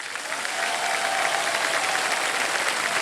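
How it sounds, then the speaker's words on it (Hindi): A studio audience on the quiz show Kaun Banega Crorepati applauds steadily, a thick, even wash of clapping that holds at the same level for the whole stretch. "तालियां बज जाए"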